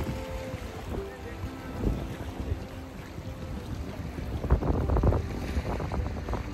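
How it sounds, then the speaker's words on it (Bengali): Strong wind rushes steadily past outdoors near water, with a low rumbling buffet and some clattering handling noise toward the end. "বাতাসের তীব্রতা তো বেশি।"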